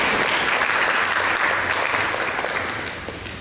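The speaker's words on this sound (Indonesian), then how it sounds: "Mari kita berikan tepuk tangan yang bersyukur." Loud, dense applause from a church congregation fills the space, many hands clapping steadily before slowly tapering toward the end.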